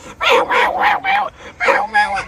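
Dogs close by give a quick series of high, whining yips and barks, about six short bursts in two clusters with a brief pause between them.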